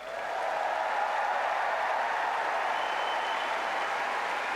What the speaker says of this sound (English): They get a loud cheer from the crowd.